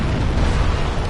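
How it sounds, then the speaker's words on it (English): Explosion in the video game Dark Souls Remastered, heard as a loud, dense low rumble that fills the whole short moment without a clear separate attack. "Ugh, and dodging the butt munch explosions."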